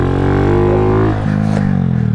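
A loud, close motorcycle engine revs and rumbles steadily, its pitch easing down and then settling into a lower drone.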